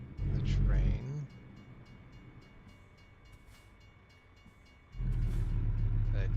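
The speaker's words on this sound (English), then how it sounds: "Oh, I hear the train." A train rumbles past in American Truck Simulator, low heavy bursts at the start and end with a quieter stretch between, fairly loud and steady with a faint voice under it.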